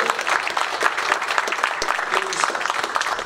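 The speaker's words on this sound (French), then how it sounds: "Vous pouvez les applaudir" Audience applause fills the hall at an association's general assembly, a dense, steady wash of many hands clapping continuously at close range, with a faint voice underneath.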